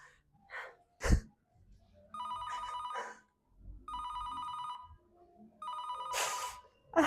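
A mobile phone call rings out through the earpiece in three repeated ring bursts, with sharp breaths and sniffs between them and no answer.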